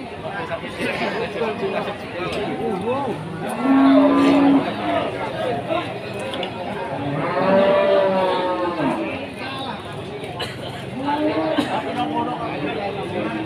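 Limousin cattle lowing at a livestock market, several moos rising out of a steady background of crowd chatter and market noise, with one longer call standing out clearly.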